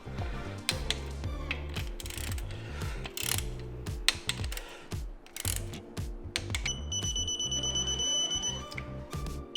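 A torque wrench tightens ARP bolts on a Honda Civic engine being built for turbo power, giving close, rapid ratcheting clicks in bursts, with a thin electronic beep near the end.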